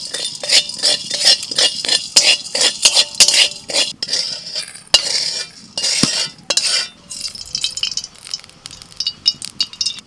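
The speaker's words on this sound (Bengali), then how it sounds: "শুকনো কড়াইতে কিছু গোটা মশলা ভেজে নেব" Whole black peppercorns and cumin seeds being dry-roasted in a dry wok, with rapid metallic scraping and clinking of a utensil against the pan in quick bursts, close and fairly loud, briefly easing off near the end.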